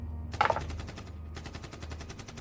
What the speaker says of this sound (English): I heard the sounds of gunfire